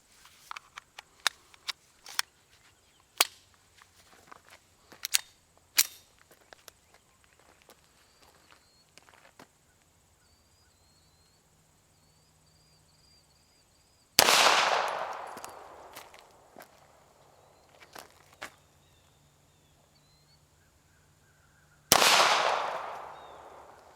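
Sig P230 pistol chambered in .380 ACP firing outdoors, with two loud, sharp reports several seconds apart, preceded by scattered light clicks and handling noises.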